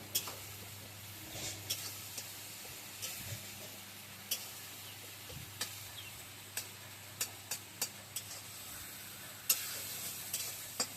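A spatula stirs tomato frying in a pan, giving scattered light ticks and scrapes over a quiet, steady sizzle.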